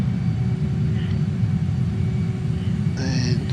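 A JAS-39 Gripen's jet engine in Microsoft Flight Simulator, throttling up after touchdown at Tbilisi, Georgia, as a steady loud rumbling drone with a brief whine rising near the end, heard alone.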